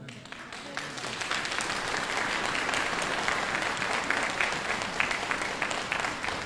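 Sustained applause from an audience filling a church after a Christmas carol concert, dense steady clapping that holds at an even, fairly loud level throughout with no voices over it.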